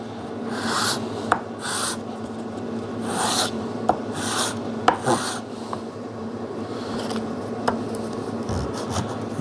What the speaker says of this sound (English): take off some of the burn with this sandpaper